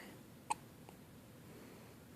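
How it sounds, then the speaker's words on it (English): A single short hiccup, one sharp quiet catch near the start, followed by a faint trace and then a low background hush with no talk. "You got the hiccups?"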